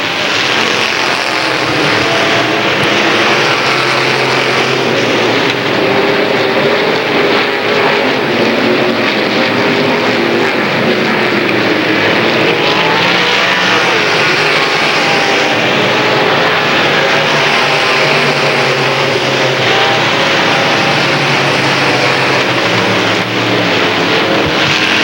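Limited late model race cars roar around a short track in 1993 heat racing, a loud, unbroken engine drone that rises and falls as the pack passes.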